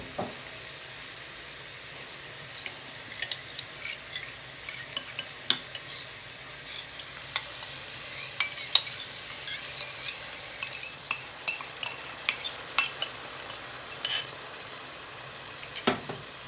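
Chicken curry sizzling in a pan as water and yogurt go in, with a steady frying hiss underneath and sharp intermittent clinks and scrapes of a spoon stirring, growing busier toward the end.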